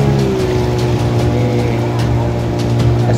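A boat engine running steadily at close range as the craft approaches a flood or drowning site in stormy conditions, a continuous droning hum with a few faint voices beneath.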